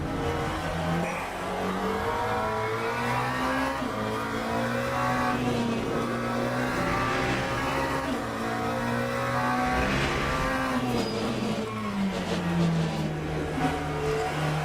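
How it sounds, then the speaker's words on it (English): Racing car in a VR sim racing game, its engine droning and shifting pitch steadily as it is hauled around a corner, with a faint tyre scrub underneath, loud and continuous with no pauses. "That's going to cause the tyres to scrub"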